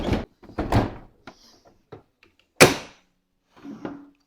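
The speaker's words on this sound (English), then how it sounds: "Put on the lid." Plastic lid of an automatic cat litter box drum being set back in place: a series of close hollow knocks and clunks, one loud thunk, then a softer rattle.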